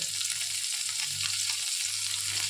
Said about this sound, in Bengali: এটাকে একটু ভাজি তারপরে আমরা সর্ষে বাটা মেশাবো